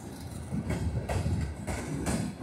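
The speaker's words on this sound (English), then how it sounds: "And here's a logging train." A logging train rolls along the Oregon coast railroad, its wheels and cars rumbling and clacking at a steady, moderate loudness with recurring rattling bursts. No one speaks.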